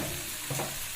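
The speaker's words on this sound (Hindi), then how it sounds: "ये लहसुन प्याज और ये टिंडे का मसाला मेरा अच्छे से भुन चुका है" Tinda masala with garlic and onion sizzles in a pan, a brief dense frying hiss with a faint stir partway through.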